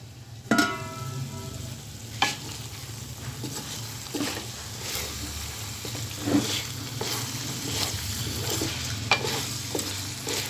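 Chinese biryani of chicken and vegetable rice cooking covered in a pan over low heat, a soft continuous sizzle with occasional louder pops and scrapes.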